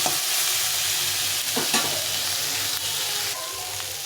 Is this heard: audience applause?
no